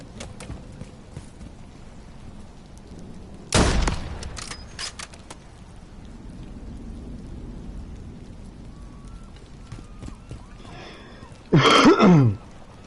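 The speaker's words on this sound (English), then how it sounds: "There's enemy fire." Enemy gunfire in the Call of Duty MW3 campaign comes in two loud, dense bursts several seconds apart, separated by a quieter stretch of rain-like patter and scattered faint pops.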